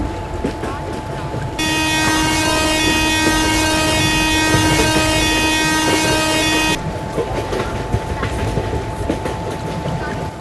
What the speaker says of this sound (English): Train number 12655 AC double-decker superfast express is scheduled to depart from